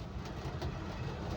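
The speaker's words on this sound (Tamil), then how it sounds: "பெங்களூரிலிருந்து கோயம்புத்தூர் செல்லும் உதய் எக்ஸ்பிரஸ் டபுள் டெக்கர் ரயில் வரும் சாமல்பட்டி ரயில் நிலையத்தில் கடந்து செல்லுது" The Uday Express double-decker train from Bengaluru to Coimbatore passes through Samalpatti railway station with a steady, low rumble, a faint continuous roar without distinct clacks.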